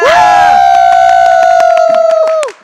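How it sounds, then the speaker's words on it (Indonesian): A loud crowd cheers and claps in the MPL Arena during a Mobile Legends esports match, RRQ Hoshi versus Onic Esports, MPL Season 7. A sustained, pitched roar is punctuated by steady claps and fades out near the end. "MPL Arena, mana tepuk tangannya?"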